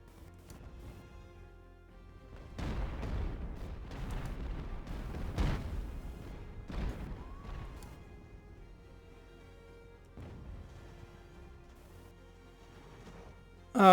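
Cannon fire striking a sailing warship in the naval battle game Ultimate Admiral: Age of Sail, several heavy booms and rumbling impacts clustered in the middle, then fading to a quieter lull with a few lighter thuds.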